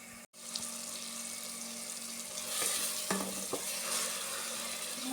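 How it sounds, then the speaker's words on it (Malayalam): Chicken being stirred in a pan with ground paste of chili, ginger, garlic and small onion, giving steady sizzling and scraping with a few sharp knocks of the spoon; no one talks. "മല്ലിച്ചെപ്പ് പച്ചമുളക് ഇഞ്ചി വെള്ളുള്ളി ചെറിയ ഉള്ളി അരച്ചരപ്പാണ് ഇപ്പോൾ ഇതിലിട്ട് ചേർത്ത് ഇളക്കിക്കൊണ്ടിരിക്കുന്നത്"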